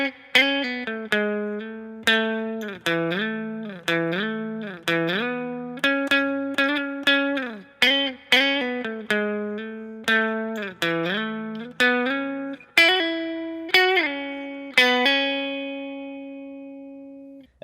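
D: An electric guitar plays a riff alone, with quick hammered-on notes and slides in a steady rhythm, clean and fairly loud, ending on a ringing note.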